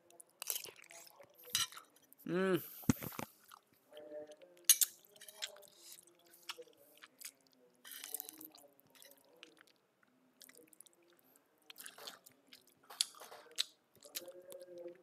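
Someone eats spicy chicken noodles (mie ayam) close to the mic: soft wet chewing and slurping in uneven bursts, with a few quiet clinks, a hum and brief murmured speech between mouthfuls.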